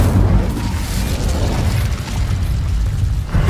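An Incendio fire spell in Hogwarts Legacy gives a loud, sustained roaring whoosh with a deep rumbling body that holds steady for a few seconds before easing slightly.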